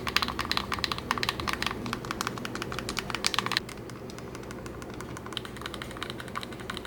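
Clunky plastic buttons on an older-model Anbernic handheld game console clack loudly in rapid, irregular bursts up close, then the pressing thins out into quieter scattered taps over a low background hum.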